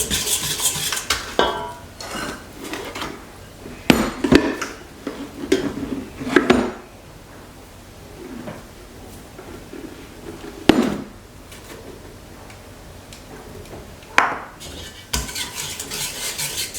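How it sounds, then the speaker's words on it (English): Dough stirred by hand with a whisk in a bowl for dinner rolls, giving repeated scraping and clinking strokes against the bowl, moderately loud and close, with occasional sharper knocks and no talking. "we're just going to keep doing it like this until it gets kind of hard to stir with my whisk"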